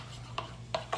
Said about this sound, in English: Stir that up good